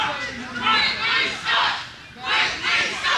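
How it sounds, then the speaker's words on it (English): Wrestling fans at the Red Barn jeer during an HWA Cruiserweight lumberjack strap match, sending up loud bursts of crowd shouting that rise and fall in three or four waves across a few seconds. "you can hear the fans here at the Red Barn saying some negative comments towards Quinten Lee"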